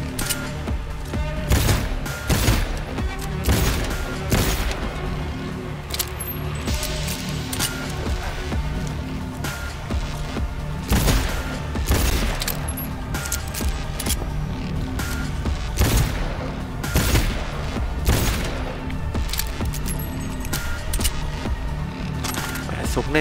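Sustained combat gunfire in the video game Cyberpunk 2077 during a fight with Militech infantry, with rapid repeated shots and booming impacts over a dense background, and occasional voices mixed in.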